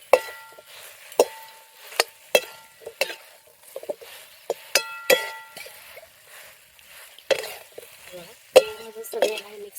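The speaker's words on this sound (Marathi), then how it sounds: "तळून घेतलेलं मंचुरियन मध्ये घालूया आणि मिक्स करून घेऊ." Fried cabbage Gobi Manchurian is stirred into sauce in a pan, a utensil striking and scraping the pan in sharp, regular clinks with a faint sizzle between them.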